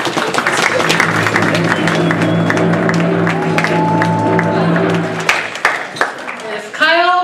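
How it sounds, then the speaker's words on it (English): An audience at a Toastmasters district speech evaluation contest claps for the third-place finisher, crisp scattered claps running under sustained tonal sound and a voice, thinning out near the end. "get a round of applause here"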